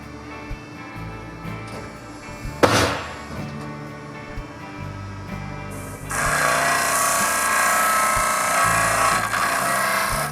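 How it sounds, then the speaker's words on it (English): Power sander working a metal bracket into shape in a fabrication shop, a steady loud grinding whir that starts partway through after a sharp knock and quieter tool handling. "We're just trimming off the exit, getting it close, and then I'll sand it into shape."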